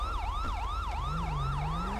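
A loud wailing police siren in LSPDFR, a GTA V police mod, sweeps up and down in a steady repeating cycle, with a low engine drone underneath.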